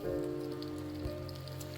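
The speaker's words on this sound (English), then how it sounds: "it's raining" Rain falls on large river rocks by the Cache la Poudre River in Poudre Canyon, making a faint, steady patter under a low hum.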